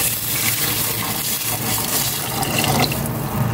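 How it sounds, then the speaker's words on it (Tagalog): Water runs steadily from a tap into a cooking pot for Filipino sopas, a continuous loud gushing splash with a slight rise in pitch as the pot fills, close up and without talk. "Maglalagay na ako ng tubig"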